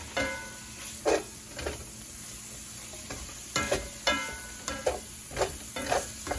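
Zucchini pizza casserole ingredients cook in a Pampered Chef skillet while a Pampered Chef mix and chop stirs and breaks them up, giving a soft frying sizzle broken by repeated scraping, clacking strokes, close and without speech.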